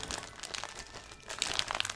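Package holding an Animal Jam magazine being opened by hand, with close crinkling and crumpling of packaging in short bursts, louder near the end.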